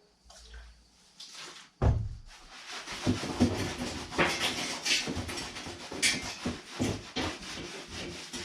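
Rubbing wax off a snapped surfboard with a rag, metho and orange cleaner at night, producing soft irregular scrubbing and wiping strokes with a few sharper knocks, close and fairly quiet without talk.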